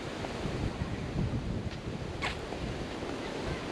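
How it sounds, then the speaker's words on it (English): Constant rushing wind buffeting the microphone on Alum Beach, Weipa, Cape York, with surf rumbling underneath, steady and fairly loud throughout. "Pretty windy here, but we're just at Alum Beach."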